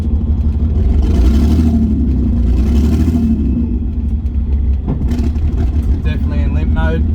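A tuned car's engine running rough and misfiring after a race, with a loud, steady low rumble and uneven pulsing, plus a sharp knock near the end and a rising whine over it.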